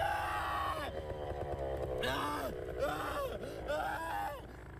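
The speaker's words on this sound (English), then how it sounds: "he's still screaming" Screaming voice after a pilot's aircraft crash, a strained wavering cry with harmonic swoops that rises and falls in repeated bursts, loud and close over steady background noise.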